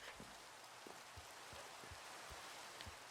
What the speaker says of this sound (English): Okay, let's get out of the rain.